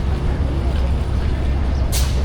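A large Amtrak diesel locomotive idles at a station platform with a deep, steady rumbling drone, and a brief hiss of air bursts out near the end.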